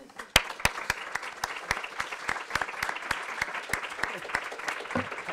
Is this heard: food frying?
no